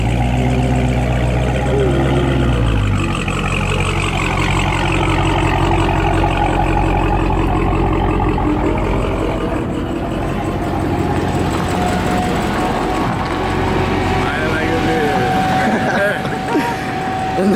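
Dodge Charger Redeye with its mid muffler deleted, idling with a loud, deep, steady exhaust rumble close by, while people talk over it.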